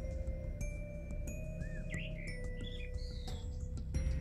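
Several short bird chirps and tweets in the video game Of Bird and Cage, rising and falling over a steady loud game music and ambient drone, with no talking.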